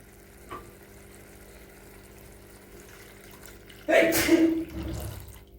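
After a quiet stretch, water is poured into a hot pan of egg curry gravy, making a short, loud sizzling splash that fades within about a second.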